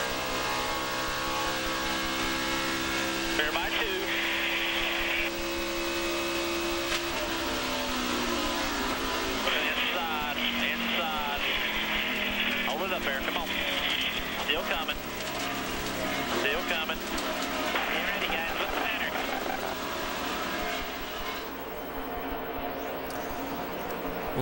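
Onboard a NASCAR Nationwide Series race car during a 2009 race, a continuous loud engine roar with shifting pitch as it revs and other cars sweep past, with commentators talking over it throughout.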